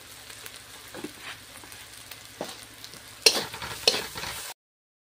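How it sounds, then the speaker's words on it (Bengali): Fish being sautéed with turmeric, salt, chili and coriander powder in a pan, a low steady sizzle broken by several spatula scrapes, two louder stirring strokes toward the end before cutting to silence. "মশলার সাথে একসাথে কষাই করে নেবো মাছটা"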